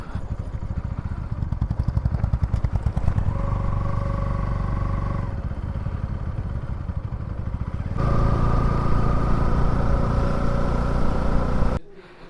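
A motorcycle engine runs close by, rough and throbbing, changing pitch as it revs and shifts, then cuts off abruptly at the end, arriving at Bhangarh in Rajasthan.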